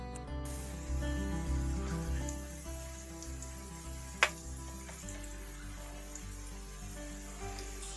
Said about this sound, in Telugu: నూనె వేడి అయ్యాక ఈ ఉసిరికాయలు ఇలా మాయేసుకోవాలి